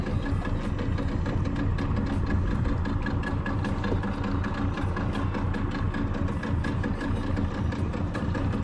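A small boat's engine idles in neutral as it drifts toward a dock in Jamaica, a steady close chugging throb that runs on evenly with no talk.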